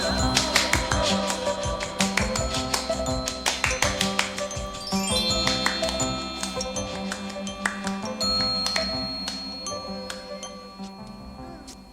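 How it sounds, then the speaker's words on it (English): Loose, slightly messy hand claps ring out in an electronic track, a steady rhythmic pattern of sharp taps over chiming synth tones and a pulsing beat. "Some messy claps."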